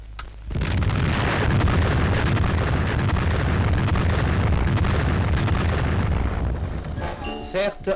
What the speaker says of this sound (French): la minute solennelle de la première explosion atomique française